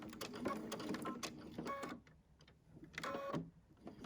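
Sewing machine stitching a seam on a blue cornhole bag, close and busy: two bursts of rapid mechanical stitching with a short quiet gap between them, no talking.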